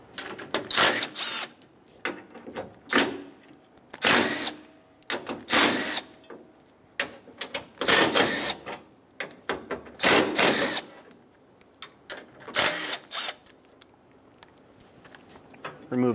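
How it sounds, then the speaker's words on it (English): A ratchet with a 10mm socket removes the AC condenser brackets on a 2003-2008 Honda Pilot: bursts of clicking and metallic ratcheting, close by and separated by quiet pauses. "Using a 10mm socket, we're going to remove the brackets off of the AC condenser."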